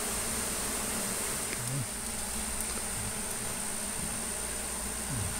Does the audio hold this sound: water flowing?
no